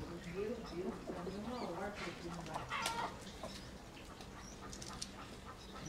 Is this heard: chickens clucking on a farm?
yes